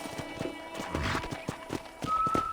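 A horse in the Red Dead Redemption video game gives light clip-clop hoof steps and a brief snort or whinny, heard faintly and with no talking.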